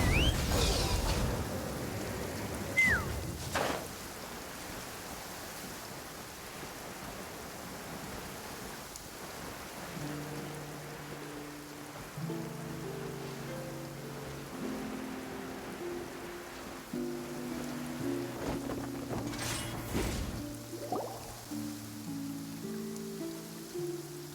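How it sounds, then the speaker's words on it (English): Steady soft rain hiss in the fantasy video game Genshin Impact, faint and continuous beneath game music notes and brief effects, with no talking. "It's raining again?"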